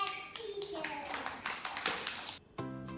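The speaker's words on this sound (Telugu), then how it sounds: "క్లాప్స్." Children clap their hands together in a preschool classroom activity, with a burst of quick, close claps and a brief pause near the end.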